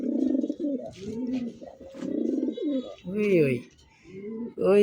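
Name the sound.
army-coloured Mukhi pigeon pair cooing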